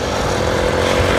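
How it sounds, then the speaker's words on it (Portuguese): A homemade motorcycle fitted with a small brush cutter engine runs with a loud, continuous buzzing drone, close and steady without pause. "um motor de roçadeira numa moto"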